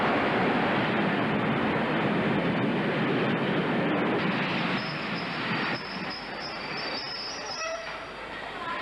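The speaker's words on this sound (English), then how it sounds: "We're told that the train is running on time" A train pulls into Manchester Victoria Station in 1987, a loud sustained rumble and rush of wheels that eases slightly, then thin high squeals of braking wheels near the end.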